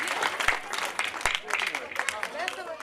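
An audience at a school celebration of Swami Vivekananda's birthday claps in a lively, uneven burst, with talk and sharp individual claps standing out near the microphone.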